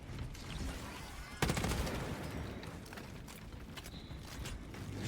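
Heavy gunfire in the Space Marine 2 video game, with dense, rapid bursts of shots that stay loud and nearly continuous, and a sharp, sudden surge partway through.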